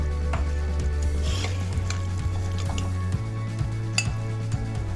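Cooked potato and broad bean sabzi being served from a pot into a dish, with soft metallic scrapes and light clinks of a spoon against the pot over a steady low hum, no talking.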